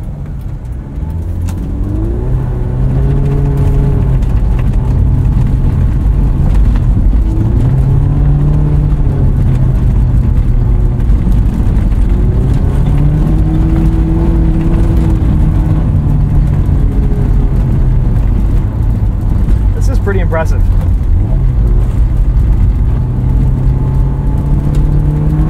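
A 2001 Honda S2000 drives and brakes on an icy, snowy road, its engine a steady loud drone that rises and falls through several gear changes, with a brief faint squeal near the end.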